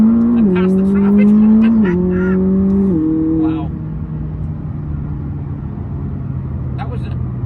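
A McLaren 600LT accelerates hard past traffic, its engine climbing through loud rising gear pulls with quick shift drops before settling into a steady cruising drone, and a man exclaims briefly.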